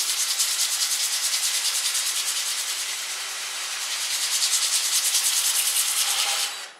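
Hook and loop sanding disc spinning counterclockwise on a power sander, giving a loud, steady rasping hiss that pulses rhythmically, dips briefly midway, then stops abruptly at the end.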